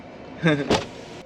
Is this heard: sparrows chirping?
no